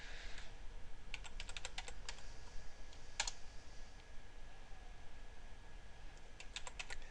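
Rapid bursts of keystrokes on a computer keyboard, with quick clustered clicks separated by short pauses, close and fairly quiet over a steady background hiss.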